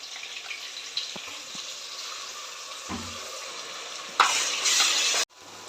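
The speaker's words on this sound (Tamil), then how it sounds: "இஞ்சி பூண்டு நல்லா வதங்கிருச்சு." Ginger and garlic sautéing in a pan for tomato rice, a steady close sizzle with occasional small clinks, swelling into a louder hissing burst near the end before stopping abruptly.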